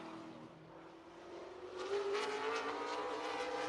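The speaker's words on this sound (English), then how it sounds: "So they get up and go for Ty Fredrickson in the 36 car" Race cars roar around the oval at Dells Raceway Park during the Dairyland 100, engines building into a loud, sustained, rising drone as the field accelerates, with no one talking over it.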